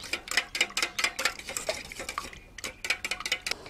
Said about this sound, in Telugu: ఇందులో యాడ్ చేసుకుని ఇందులో మిక్స్ అయ్యేటట్టుగా బాగా కలుపుకుందాము.